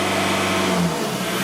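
A petrol car engine on an Audi A3 with a faulty intake flap revs steadily upward from idle toward about 2,000 rpm, a loud, close, continuous hum with no talk over it.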